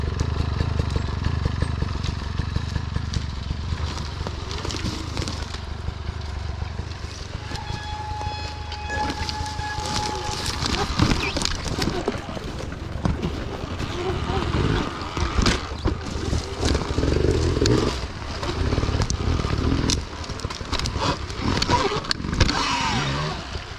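A Surron electric dirt bike riding hard off-road through wet woodland, its motor whining and rising with bumps, splashes and crashing brush over a rough trail, with a rider's voice talking over the noise at times.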